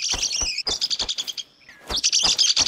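A squeaky bird in The Hunter: Call of the Wild on the Revontuli Coast gives rapid, high-pitched chirps in close bursts, a brief pause, then another quick flurry of squeaks.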